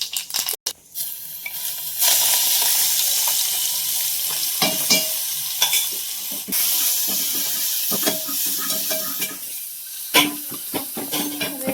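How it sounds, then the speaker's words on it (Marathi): Cumin and mustard seeds sizzle steadily in hot oil for curry rice, a dense crackling hiss that starts loud after a brief pause, with occasional clinks and stirring scrapes of a utensil in the pan and no talk. "जिरे मोहरी इकडे पत्ता घालणार आहे"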